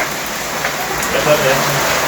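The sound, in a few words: heavy downpour of rain with some hail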